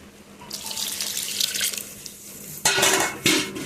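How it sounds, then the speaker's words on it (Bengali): Tap water runs into a rinsed milk bowl, a bright splashing stream that builds, pauses, then gushes loudly again near the end, with light clinks of the bowl. "দুধের গামলাটা ধুয়ে জল দিয়ে দিলাম।"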